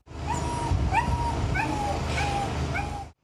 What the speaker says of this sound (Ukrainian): Маленький песик, якого залишили в машині, несамовито скавулів у закритій пастці.